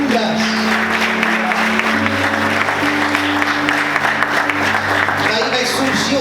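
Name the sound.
church congregation applauding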